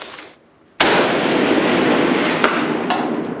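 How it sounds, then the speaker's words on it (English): A single loud rifle shot cracks out with a long rolling echo over an open range, followed by two fainter sharp ticks as rounds strike steel targets at 450 yards; the rifle is Russian, firing Czechoslovakian ammunition. "So I raised it up to 450 and started shooting at steel."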